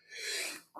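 A single close, breathy sneeze bursts out with a sharp hiss and fades, followed right away by a short vocal sound.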